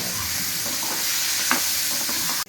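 Tomato and green chilli fry in oil, a steady close-up sizzle with faint stirring scrapes and no talk.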